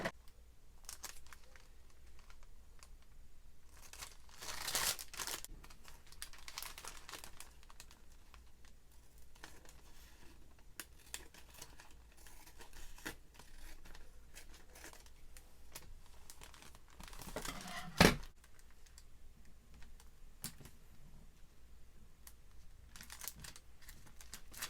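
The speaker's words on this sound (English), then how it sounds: "So let's get some double-sided tape." Double-sided tape pulled off its roll and pressed down while wrapping a craft gift, quiet crinkly rips and rustles spread through the stretch with a sharper tearing burst near the middle, no talking.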